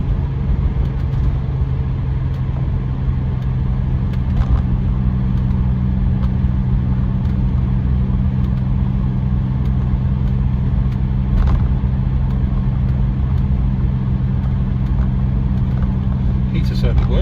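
A BMW 635CSi E24 with a dogleg manual gearbox drives along, its engine droning steadily from inside the cabin throughout. Someone talks over the engine sound.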